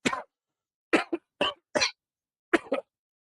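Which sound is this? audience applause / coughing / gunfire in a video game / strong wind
coughing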